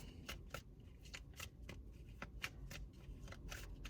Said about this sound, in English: I'm just gonna shuffle and see what cards come out